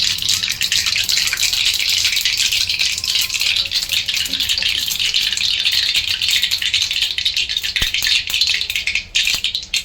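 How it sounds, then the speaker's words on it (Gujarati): Mustard seeds crackling in hot oil for papad vada tempering, a loud dense continuous hiss with fine popping throughout, close and without talk. "રાય ફૂટી ગઈ છે"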